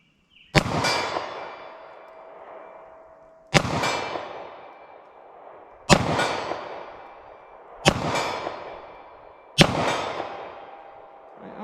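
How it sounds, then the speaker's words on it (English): .38 Special +P revolver fired slow at 40 yards: five sharp, loud gunshots spaced roughly two seconds apart, each followed by a ringing decay, with no talking. "I'm just gonna do some slow fire with both of these and see how they do for accuracy for me from 40 yards."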